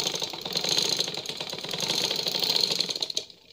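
A simple sewing machine runs a double welt seam in one rapid, close, continuous burst of stitching that stops abruptly at the end.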